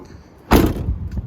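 The rear boot of a 2017 Toyota Landcruiser Prado GXL shuts with a single loud, close thud, followed by a short fading rumble.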